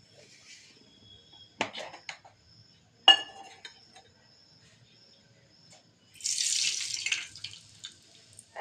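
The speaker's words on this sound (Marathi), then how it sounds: "मोहरी तळतळली." Mustard seeds spluttering in heated oil for a paneer tempering give quiet, scattered sharp pops and clinks, followed by a short hissing burst near the end.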